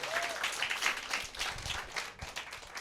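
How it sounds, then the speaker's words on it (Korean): Audience at a church gathering applauding graduates, with a dense, moderately distant burst of clapping that thins out toward the end. "축하의 박수 한번 주실까요?"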